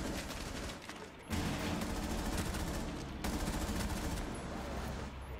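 An AK rifle in Rainbow Six Siege fires in sustained automatic bursts, a dense continuous rattle with a brief pause early on, loud and close throughout.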